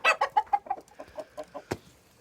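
An old blue rooster and young pullets of the year in a poultry breeding pen, clucking in a rapid run of short, loud calls that slow and fade, ending with one sharp louder note, no voices.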